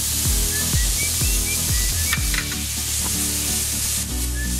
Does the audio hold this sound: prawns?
yes